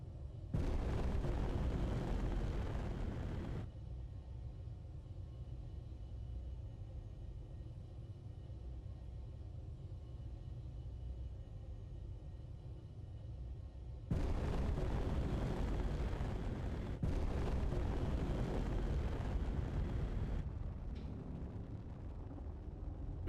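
A turret in the space game Space Engineers fires into a hill. It makes long, loud, rumbling bursts of blasts, with a first volley, a quieter low drone, and then two more sustained barrages.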